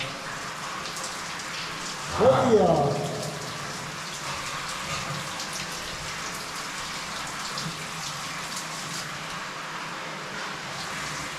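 Water pours steadily from a shower tap as hot and cold are adjusted, a constant hissing spray with a brief louder splash early on, close by, a single word spoken over it.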